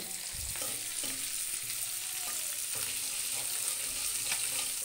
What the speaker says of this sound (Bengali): এবার ভালোভাবে ভেজে নেব